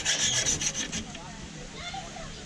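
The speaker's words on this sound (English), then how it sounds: "It's not going to work, your hacksawing that." A cheap hacksaw cuts on an outback trip in the Kimberley, rasping in quick back-and-forth strokes for about a second. It then gives way to softer scraping and rustling, with no clear speech.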